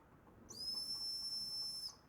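A single sustained, very high-pitched note from a little mini antler whistle, about 1.3 seconds long, breathy and faint against low background hiss.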